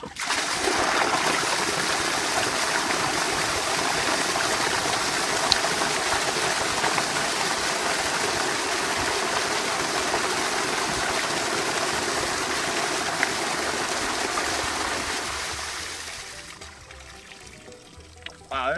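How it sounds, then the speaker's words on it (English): Water gushing from an opened farm water line, a loud steady rushing spray that holds for about fifteen seconds before tapering and weakening near the end. "I figured it'd be fun to open this up and see how far it shoots."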